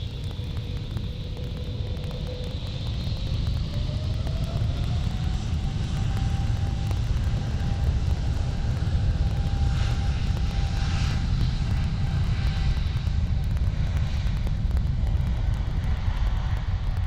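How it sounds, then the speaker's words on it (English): Boeing 777 jet taking off down runway 36 left at Amsterdam airport, a steady loud engine roar with a rising whine that holds throughout, heard from a distance outdoors with no talking. "And there goes the mighty 777, right down runway 36 left."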